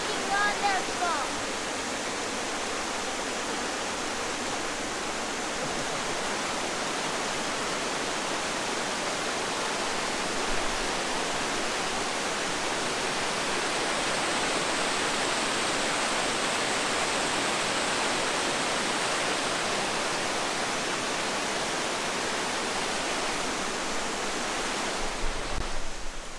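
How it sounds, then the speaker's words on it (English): Port Ludlow Falls, a small waterfall, rushes in a steady, dense wash of water noise that holds unbroken for the whole stretch, heard close with no talk over it. "Tiny waterfall."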